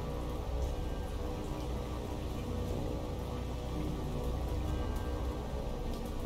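Steady, dense rainfall in the naval combat video game War on the Sea makes an even hiss that continues without a break.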